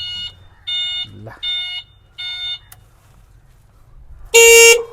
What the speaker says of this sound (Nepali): हर्न भइगयो है, एकदम चर्को हर्न छ।